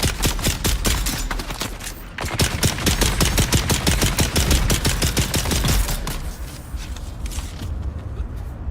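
Dense, continuous gunfire in the video game Dune: Awakening, with rapid overlapping shots and bursts that stay loud and close throughout, easing slightly near the end.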